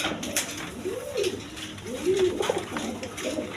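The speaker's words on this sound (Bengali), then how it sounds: "একদম ফ্রেশ কবুতর দেখেন" A breeding pair of pigeons, black-eyed and white-eyed, coos nearby in two rounded, rising-and-falling calls with a faint clink in the background.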